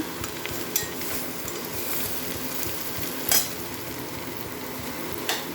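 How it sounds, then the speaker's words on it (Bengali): Milk fries in a pan on a gas stove with a low, continuous sizzle while a utensil stirs it, with a few sharp scrapes and clinks against the pan. "বন্ধুরা আমার দুধ ভাজা হয়ে গেছে দেখুন"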